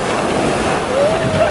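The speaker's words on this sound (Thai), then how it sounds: "ครั้งแรกนะครับที่พาน้องเมด้ามาทะเลนะฮะ" Sea waves at a beach wash in with a steady broadband rush, mixed with wind noise on the microphone, loud and close throughout the brief moment.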